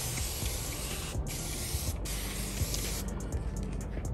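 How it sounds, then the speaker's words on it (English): Steady close-up hiss of coating prep spray sprayed from a bottle onto car paint, with brief pauses between bursts and a quick series of short sprays near the end. "Some of the coating prep spray in this bottle here. I'm gonna go ahead and spray some on."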